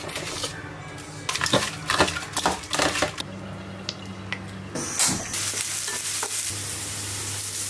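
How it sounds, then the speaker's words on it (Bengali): Large prawns stir-fried with onion in a pan, a steady sizzle under repeated scraping and clinking of a spatula against the pan, loud and close. "আজকে বড় চিংড়িগুলো ভুনা করি একটু পেঁয়াজ দিয়ে"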